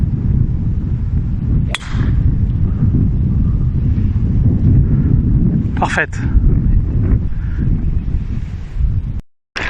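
Wind gusts across an open golf course, a loud continuous rushing buffet on the microphone with a few sharp whooshing bursts, and a voice speaks briefly over it.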